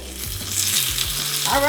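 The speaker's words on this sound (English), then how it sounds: "now they're really sizzling" Chinese dumplings frying in a hot pan give a steady, close sizzle with faint crackle throughout, no talking over it.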